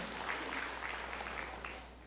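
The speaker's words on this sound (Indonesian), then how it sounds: "Berikan tepuk tangan yang meriah buat Tuhan." Steady, dense clapping from a large church congregation, a continuous wash of applause that holds for a couple of seconds before easing slightly.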